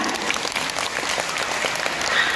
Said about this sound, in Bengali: সেজন্য আরেকবার একটু হাততালি হতেই পারে, তাই না?